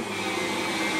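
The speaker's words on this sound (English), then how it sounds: "we have the vacuum cleaner by D-Styles." A vacuum cleaner runs with a steady, loud, continuous motor drone and a broadband whoosh throughout, alone with no talk.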